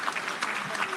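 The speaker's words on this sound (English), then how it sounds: "Yes, I think you should clap him." An audience at a national honours and awards investiture ceremony claps in a brief, steady patter of applause, moderately loud and without voices.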